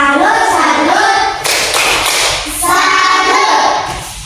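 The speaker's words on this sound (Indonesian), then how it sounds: "Kita kasih tepuk salut untuk Ica." Schoolchildren and a teacher perform the rhythmic clapping chant tepuk salut in a classroom lesson, with voices chanting along over patterned hand claps and taps.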